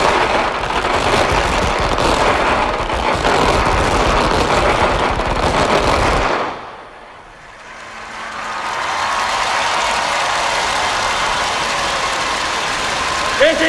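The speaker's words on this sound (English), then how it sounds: "the parade commander will be giving the order for the Guard of Honors to execute the feu de joie" Guard of Honour firing a feu de joie rifle salute at Singapore's 2003 National Day Parade: a dense, rapid rattle of rifle shots for about six seconds, then a sudden stop followed by a rising crowd murmur.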